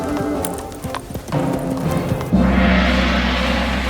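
Horse hooves clip-clop at a steady walking pace, close by, before a sudden louder swell of noise takes over.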